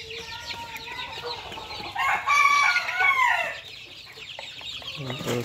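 Hens cluck steadily close by while a rooster crows loudly in the middle, its long call rising above the flock's chatter.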